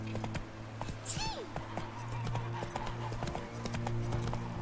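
Horse hooves clip-clop at a steady trotting rhythm while riding in The Witcher 3, close and clear over quiet game ambience, with a short whinny and a voice speaking briefly.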